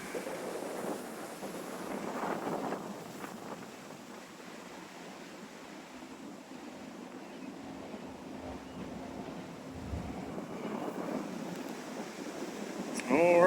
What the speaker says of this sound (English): And boy, that wind is whipping.